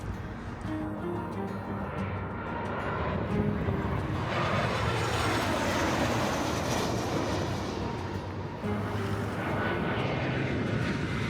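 A passenger airplane comes in to land on runway 34 at Fukuoka Airport, heard head-on from close range beside a road; a loud, broad engine roar swells steadily and holds as the jet passes low overhead.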